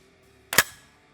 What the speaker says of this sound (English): Now watch when I pull the trigger and it's on fire.